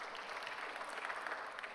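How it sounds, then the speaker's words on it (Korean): A congregation claps together during a church service, a dense, even burst of applause that continues for the whole short stretch at moderate level. "우리 박수 한번 하겠어요."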